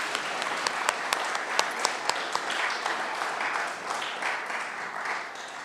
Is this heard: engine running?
no